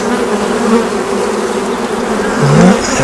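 Honey bees swarm around an opened hive, their buzzing a dense, steady drone close by with a brief rise in pitch near the end; no one speaks.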